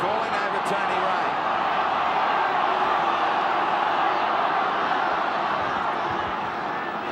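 A stadium crowd roars at a 1991 rugby league semi-final between Manly and the Bears after a high tackle, a sustained dense wash of noise with a commentator talking over it.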